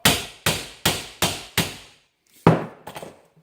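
A hammer strikes an ATV axle five times in an even rhythm, sharp metallic bangs close up, followed by a pause, one harder blow and a few lighter rattling taps.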